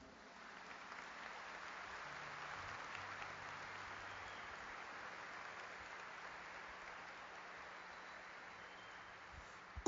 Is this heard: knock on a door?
no